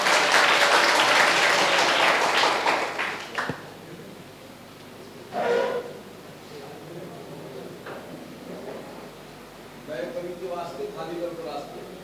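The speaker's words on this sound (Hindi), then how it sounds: "अरे भाई जोरदार ताली बजा दो इसके लिए भाई के लिए." An audience at a live stage event applauds loudly for a few seconds, the clapping then fading into a quiet room with scattered voices and a brief clatter.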